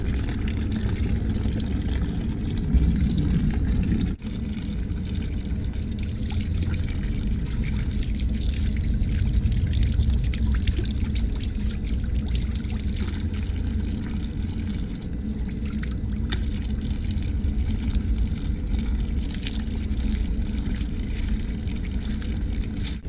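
Clear, cold water trickles from a small artesian well beside a trail near a river in Florida, a steady close burble and splash continuing throughout.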